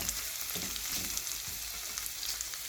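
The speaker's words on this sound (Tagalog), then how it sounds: "Yan, nagluluto ako ng sibuyas" Onions fry in a pan for beefsteak, giving a steady close sizzle with faint stirring scrapes and no talking.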